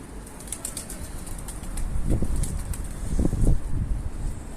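Wings flap in bursts as birds take off and settle, with faint high chirps and a soft outdoor background.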